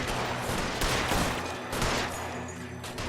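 Gunfire from the video game L.A. Noire, a quick fusillade of overlapping shots that crackle through a busy game mix at moderate volume.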